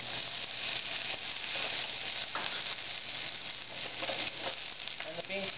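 Snow peas, carrots and leeks sizzle steadily in a hot pan for spicy udon noodles, a dense continuous frying hiss with small crackles, close and fairly loud, with no talking over it.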